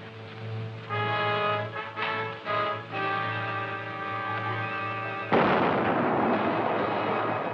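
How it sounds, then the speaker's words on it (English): A thrown naphtha torch exploding in an old Western film scene: a tonal musical passage gives way to a sudden loud, broad burst of noise that sustains as a rumbling roar. "It wasn't supposed to explode."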